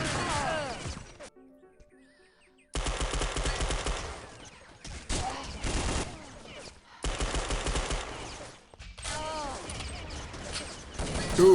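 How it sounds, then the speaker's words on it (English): Gunfire rings out in a competitive video game match between national teams, with bursts of rapid, loud shots broken by brief silent cuts and clipped game effects. "Double tap on the helmet there by Devo."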